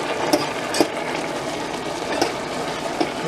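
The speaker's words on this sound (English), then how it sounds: "Stir that in." Turmeric being stirred into a pan of wild rice with mushrooms gives a steady soft sizzle, with a few louder scrapes of a spoon at intervals. No one speaks.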